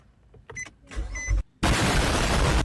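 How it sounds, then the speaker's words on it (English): A Nissan Murano, with fresh CVT fluid, setting off on a test drive: quiet mechanical whirs and clunks, then a sudden loud, steady rushing roar of the car moving. "I took it out for a quick test drive to make sure everything was shifting smoothly"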